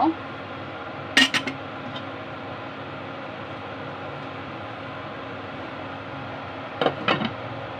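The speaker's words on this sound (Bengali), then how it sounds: "ঢাকনা দিয়ে দিব" Metal lid set onto a cooking pot while boiling banana-flower shells in a home kitchen, two clustered clanks about six seconds apart, fairly close over a steady background hiss.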